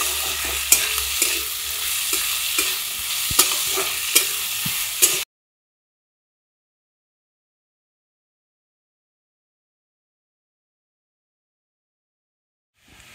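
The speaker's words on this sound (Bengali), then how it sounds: "পেঁয়াজটা আমি এবার লাল করে ভেজে নেব।" Onions fry in a pan until reddish, with a loud close sizzle and repeated spatula clicks and scrapes for about five seconds, then silence.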